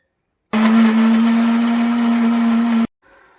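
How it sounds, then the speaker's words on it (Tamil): A mixer grinder blending tomatoes whirs loudly and steadily for about two seconds, then cuts off abruptly. "இப்போ இதை கட் பண்ணி நான் மிக்ஸி ஜாரில் அரைச்சி எடுத்துக்க போகிறேன்"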